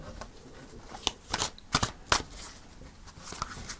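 Tarot cards are shuffled by hand, giving a few soft, crisp riffling bursts close to the microphone in an otherwise quiet room.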